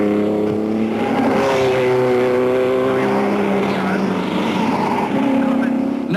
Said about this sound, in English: a tremendous fight between the Maserati and the Aston Martin